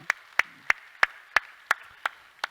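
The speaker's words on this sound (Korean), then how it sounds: "수고하신 모든 분들 우리 박수로 한번 격려하겠습니다." A single pair of hands claps eight times at a steady, even pace during a Korean church service, each sharp clap distinct and close.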